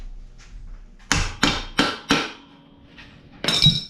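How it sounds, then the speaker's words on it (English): Four sharp metallic hammer taps ring out in a steady rhythm on a nut fitted to a Honda XR100R pit bike, followed by a lighter tick and a final louder strike, close up with no talking. "I'm going to put this nut back on and tap it, see if I can get it out."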